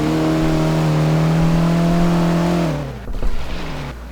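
A Russian car in the Gmod Simfphys game idles and hums with a steady, buzzy engine tone that drops off near the end, followed by a brief rumbling burst.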